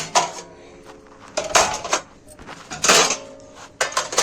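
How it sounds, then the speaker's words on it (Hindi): Metal thali dinner plates clatter and clink as a stack is carried through a house, several sharp rattles of stacked plates knocking together at close range. "ये देखो मैं ले जा रही हूँ यहाँ से भोजन थाल"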